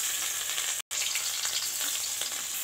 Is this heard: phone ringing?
no